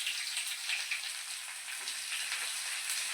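Onion hits hot oil in a pan on low gas for jowar upma, giving a continuous soft, hissing sizzle with faint crackles, fairly quiet and unbroken throughout.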